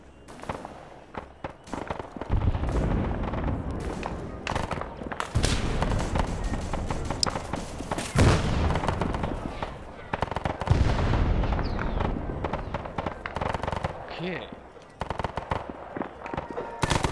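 Heavy gunfire and explosions fill a 1960s Argentina campaign in a military video game, with dense, continuous bursts and sharp shots, thudding blasts and a loud, close roar that hardly lets up. Voices talk faintly underneath.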